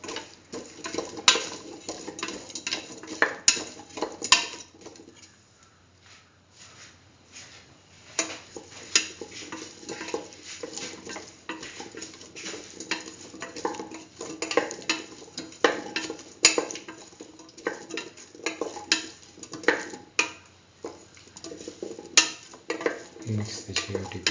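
A utensil stirs chopped chayote together with split chickpeas and other stew ingredients in a pot. It makes repeated scraping, clinking and tapping sounds at close range, in irregular bursts with short pauses between them.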